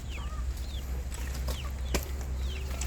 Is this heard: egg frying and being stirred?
no